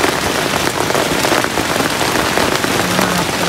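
Heavy rain pounding steadily on a camping tent at night, a dense, loud, unbroken hiss and patter of drops close overhead, with no talking.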